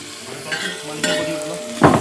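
Chicken fries in a pan while a spoon stirs it, producing a close, continuous sizzle broken by three distinct scraping strokes, the last one loudest.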